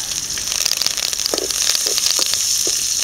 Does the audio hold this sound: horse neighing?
no